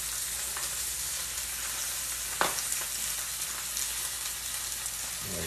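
Corned beef fries in a cast iron pan with a soft, steady sizzle, faint and close, with one sharp tap or scrape partway through.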